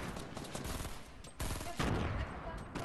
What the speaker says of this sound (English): Oh, he's taking shots at me.